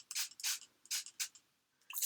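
Mixed media paint is sprayed onto a burlap canvas in short, close, hissing bursts, about five quick sprays with brief gaps between them, quiet overall.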